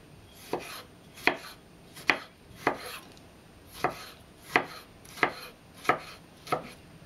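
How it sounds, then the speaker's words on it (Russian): Knife chopping tomatoes into small cubes on a cutting board, about ten sharp, evenly spaced strikes at a steady unhurried pace, close and clear with no talking. "тоже нарезаем небольшими кубиками"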